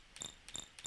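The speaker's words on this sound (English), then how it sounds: "you can barely hear that. It sounds like a cricket." A pitched-up GameSalad sound effect on a Mac that resembles a cricket: three quick, high, thin chirping bursts at an even rhythm, faint and heard alone.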